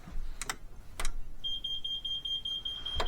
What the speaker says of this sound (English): The alarms come up there.